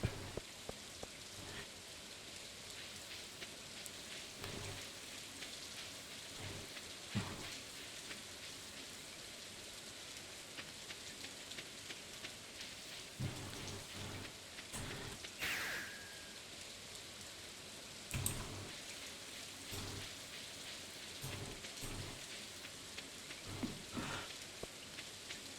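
Steady rain falls in Stardew Valley, a continuous hiss with scattered droplet ticks and a few sharper splashes, with no talking.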